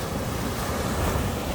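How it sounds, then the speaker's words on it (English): Ocean waves wash steadily onto Khao Lak beach in a continuous broad roar, with gusty wind buffeting the microphone and no voices. "Nice waves out here too."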